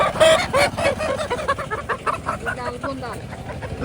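Several chickens cluck in a busy, rhythmic chatter at a tribal village market in Maredumilli, with people talking over them in the background.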